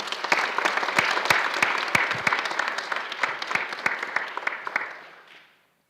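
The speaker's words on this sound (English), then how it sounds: "Let's have one more round of applause for all the recognition." A round of applause at a school board meeting, sharp individual claps from a modest room of people, steady and fairly close before tapering off into silence near the end.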